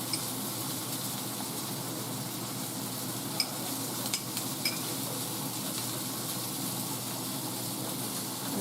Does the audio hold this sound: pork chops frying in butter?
yes